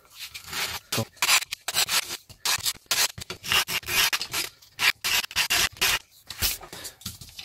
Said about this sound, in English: So again, you can buy lots of this uh, sandpaper in the, the pound stores as well. But I'll just put it flat and just clean up the edges.